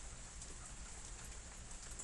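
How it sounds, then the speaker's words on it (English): Light rain falls steadily, a soft continuous patter of drops on surfaces with no other sounds, faint and even throughout. "Yeah, we're getting a little rain here."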